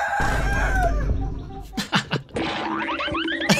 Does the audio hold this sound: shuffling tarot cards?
no